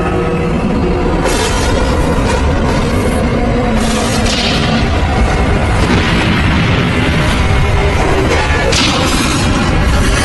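Massive explosion at a nuclear plant, a dense sustained roar of blasts and crashing debris with repeated heavy booms, loud and continuous from start to finish.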